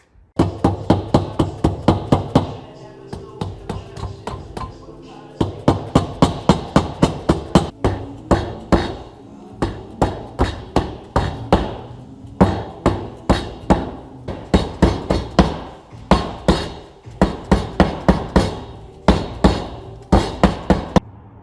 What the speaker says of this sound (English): I was able to hit it hard enough with the dead blow to get just a couple threads there sticking out this side